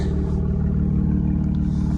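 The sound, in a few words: 2017 Camaro engine and exhaust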